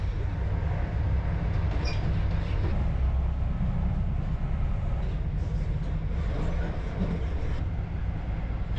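Continuous low rumble and rattle of an Inter7City HST passenger train running on rails between Inverness and Perth, heard from inside, steady and droning with faint squeals, no voices.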